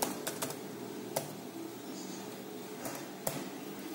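Typing on a computer keyboard to enter a question for an online test, with scattered key clicks and a few sharper taps, close and fairly quiet against a soft background hiss.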